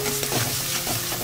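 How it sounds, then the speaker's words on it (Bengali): Ginger and green chilli paste fries in hot oil, a close sizzle broken by quick stirring scrapes in a short burst. "বাটা মশলাটাকে তেলের মধ্যে একটু ভেজে নেব"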